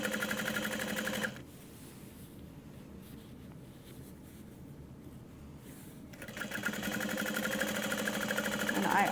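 A sewing machine runs in steady bursts, top stitching a padded strap at a medium stitch length, with a quiet pause in the middle before the stitching resumes loudly.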